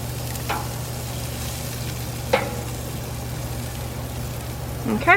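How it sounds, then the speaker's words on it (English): Salmon fillet cooking in a hot pan gives a steady, even sizzle close by, with a couple of brief clanks partway through and a short burst of voice at the end. "we're going to cook it for about 5 to 7 minutes depending on how you like your salmon"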